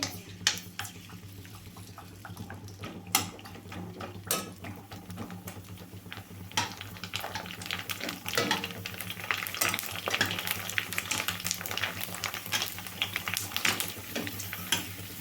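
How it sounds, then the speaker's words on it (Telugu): Puris for pani puri frying in hot oil while being stirred, a continuous bubbling sizzle that grows busier over time, with frequent light clicks and scrapes of a utensil against the pan and no talking. "ఇట్లా కలుపుతా వేయించుకోవడం వల్ల బాగా పొంగుతాయండి"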